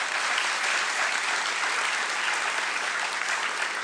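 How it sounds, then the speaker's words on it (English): Loud, sustained applause from a large crowd at a high school athletes' awards ceremony, a dense even roar of clapping held at constant strength throughout, with no voices on top. "So let's give them a round of applause."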